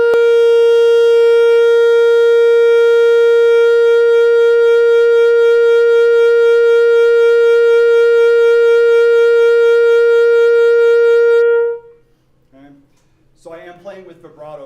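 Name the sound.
saxophone played with vibrato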